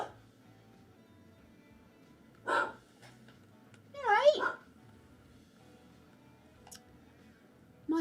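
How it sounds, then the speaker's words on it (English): Dogs at home give a short panicked bark followed by a longer yelping, whimpering outburst, both sounding somewhat distant and separated by quiet stretches. "That sounds like a panicked bark."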